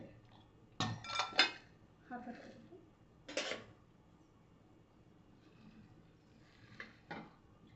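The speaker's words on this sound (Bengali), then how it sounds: "আমগুলোকে, এর পাত্রের মধ্যে ঢেলে নেব" Boiled raw mangoes tumble into a metal pot in a kitchen with sharp clattering knocks and clinks in two brief bursts, then quieter scraping and a few light taps between pauses.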